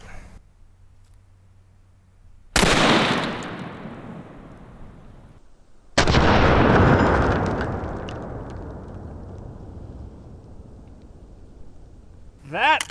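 Two booming elephant-gun shots fired at body armor, each a sharp loud blast followed by a long rolling echo that fades over several seconds, with quiet gaps between.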